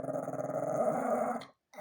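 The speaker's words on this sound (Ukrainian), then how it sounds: "Це любить погратися отак, щоб погарчати." A dog growls steadily and fairly close while playing, a continuous rumbling snarl that breaks off briefly near the end before resuming.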